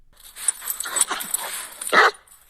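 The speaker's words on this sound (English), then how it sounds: "I will welcome back to the show Mac the Wolfhound for another segment of Wow or Woof." A wolfhound in a studio lets out a few close, short yips and whimpery barks, ending in one louder bark.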